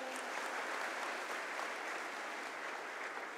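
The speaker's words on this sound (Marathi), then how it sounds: "त्यांच्यासाठी एकदा जोरदार टाळ्या होत्या" Loud, sustained applause from an audience at a Guru Purnima speech in Sangamner, a dense wash of clapping that continues steadily throughout with no break.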